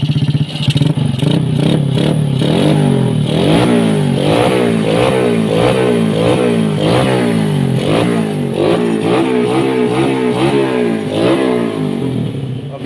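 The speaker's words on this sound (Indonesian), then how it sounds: "untuk suara mesin adem ya teman" A Yamaha Jupiter motorcycle engine, freshly rebuilt after a clutch repair, runs loud and close, revving up and down in repeated swells over a steady mechanical clatter.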